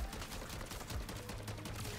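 Rapid gunfire from an MCW 6.8 rifle in MW3 Zombies, a dense run of shots with no break across the whole stretch, loud and steady with no speech over it.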